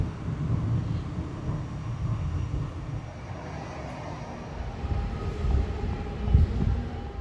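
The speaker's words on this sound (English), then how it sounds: "And here it comes, my ride for today, this Starflyer Airbus A320." A Starflyer Airbus A320 arrives, heard as a steady low jet roar from a distance, a broad rumbling wash that swells and recedes slightly without any talking.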